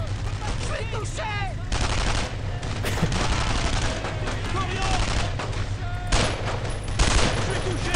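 Gunfire in the World War II shooter Brothers in Arms: Road to Hill 30, dense, loud volleys of rifle and machine gun shots over battle noise, with someone talking over the shooting.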